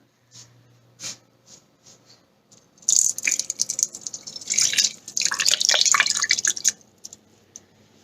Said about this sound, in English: I'm going to pour in plain water